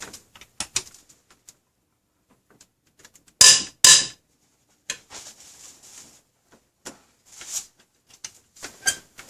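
A socket wrench loosens cylinder head bolts on a Toyota 5VZ-FE engine, with a pair of loud, sharp cracks near the middle among scattered faint clicks and ticks in an otherwise quiet space.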